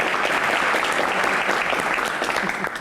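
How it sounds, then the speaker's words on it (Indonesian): Studio audience at a question-and-answer show applauding after a gavel strike, a loud, full, continuous wash of many hands clapping throughout. "tepuk tangan untuk ketok palu"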